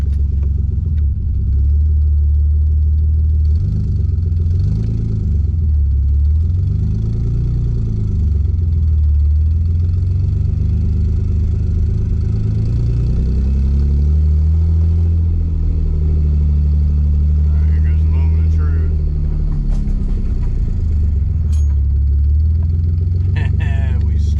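A Nissan 300ZX engine runs and drives, returning to life after ten years, with a steady low mid-range rumble throughout, rising and falling slightly with throttle, close and loud, with occasional small clicks.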